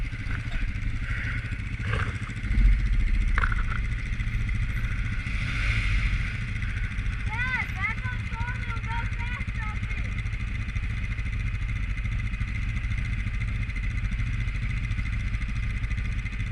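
A 2021 Honda Rubicon 520 ATV engine cruises with a steady mid-pitched drone that holds even throughout, with some clatter early on and faint chirping over it.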